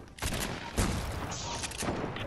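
Dense bursts of video-game gunfire ring out as a player is shot out of a tree, rapid overlapping shots and a heavier blast near the start, loud and continuous for a couple of seconds.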